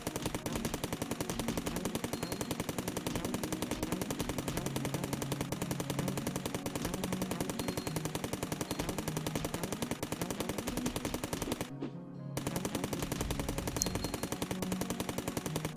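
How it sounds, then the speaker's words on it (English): An assault rifle fires in rapid, steady automatic bursts in the video game Cally's Trials, almost continuous and loud, cut off by a short silence near the end before resuming. "The assault rifle is made for this."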